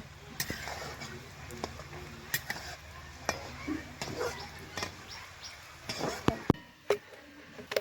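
Pitha cakes frying in oil give a steady, soft sizzling hiss, broken by sharp clicks and clatters of a utensil against the pan, with a voice speaking over it.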